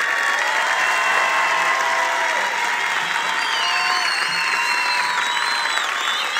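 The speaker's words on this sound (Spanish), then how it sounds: "mándenla mejor con un fuerte aplauso" Steady applause fills the room as an improv theatre audience claps and cheers at the start of an anniversary special show, a dense, continuous crowd sound with no speech.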